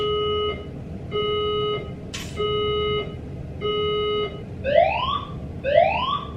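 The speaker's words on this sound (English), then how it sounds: "nice to know my fire alarm is working in my building" A building fire alarm sounds in repeated steady tones, then switches to rising whoop sweeps, loud and insistent in an indoor space.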